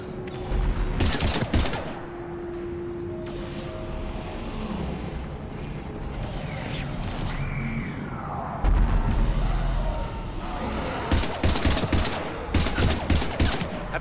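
Heavy gunfire in the Mass Effect 3 video game, with bursts of rapid shots at the start and again near the end, and dense battle noise filling the gap between them.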